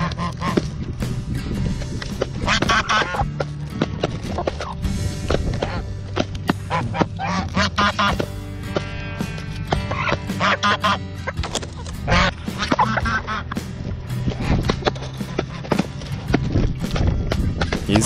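Geese honk loudly and repeatedly, persistently harassing hens that scramble for feed; the nearby calls overlap with quacking-like squawks and constant pecking and scuffling sounds across the whole stretch.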